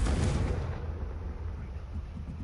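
A heavy fiery blast from the Confringo explosive spell in a Harry Potter video game, a loud boom up front that settles into a long rumbling decay.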